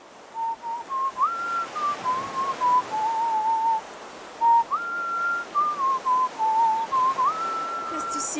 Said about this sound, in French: Qu'est-ce que tu siffles ?